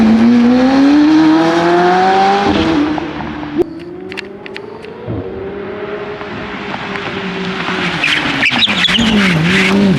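A McLaren 750 supercar makes a quick pull, its engine note climbing loudly, dipping mid-run, then rising again as it passes close. Brief tire chirps and sharp crackles join the strong, continuous roar.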